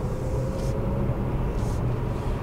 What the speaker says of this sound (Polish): a w samochodzie też jest szum